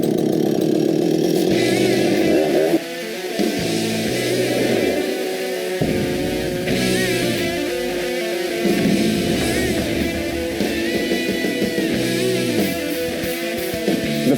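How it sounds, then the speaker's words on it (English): A chainsaw cuts through a large log of 18 to 20 inches in diameter, its engine droning loud and steady with the pitch bogging and rising as the chain bites into the wood, and no one talking. "The feeling of that chain going through an 18 to 20 inch diameter log, it's pretty indescribable."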